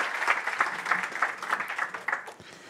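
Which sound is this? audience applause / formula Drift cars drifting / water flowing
audience applause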